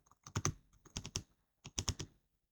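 Fingers type on a computer keyboard while entering a spreadsheet chart title, giving three short, close bursts of crisp clicking with brief pauses between them.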